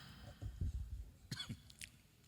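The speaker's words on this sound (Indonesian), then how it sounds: "Aku juga batuk ini." A man coughs a few times during a religious lecture, short bursts at close range with a pause between them, alone with no talk over them.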